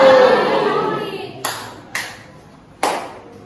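Three sharp hand claps in a classroom, evenly spaced after a fading wash of room sound, each one crisp and close.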